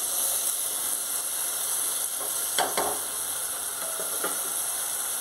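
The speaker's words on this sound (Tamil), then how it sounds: "இந்த வெங்காயமும் தக்காளியும் கொஞ்சம் நேரம் நல்லா வதங்கி" Onions and tomatoes frying in a pan for a Tamil tomato gravy, giving a steady soft sizzle with a few brief louder crackles near the middle, close by and heard alone.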